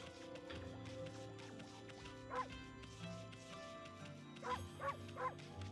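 Short wolf barks from the video game Okami HD, a single yip followed later by a quick trio of barks, faint over a soft in-game music bed.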